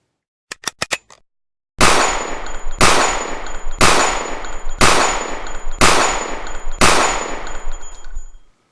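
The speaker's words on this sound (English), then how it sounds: "something unique to revolvers, and it's what they call the cylinder blast" A revolver fires six loud, booming shots about a second apart, each with a sharp blast from the cylinder gap and a short ringing tail. A few quick metallic clicks come first, then silence before the shooting starts.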